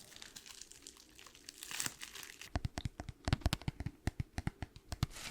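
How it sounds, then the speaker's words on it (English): Crinkly material is handled close to the microphone in a quiet room, first as soft rustling and then as a run of sharp, rhythmic crackles and crunches. "crinkling material there"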